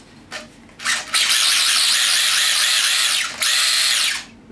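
Brushless motor of a LOSI Micro Rallye RC car whines loudly as it spins up, holds a high-pitched electric scream for a few seconds, dips briefly, then surges again before cutting off.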